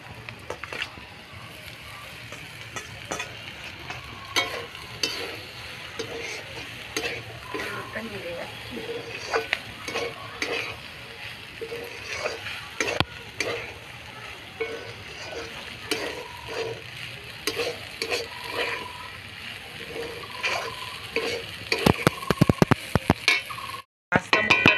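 Pasta with egg and softened vegetables being stirred and fried in a pan, with a steady low sizzle and repeated scraping, clinking spoon strokes, while people talk intermittently throughout.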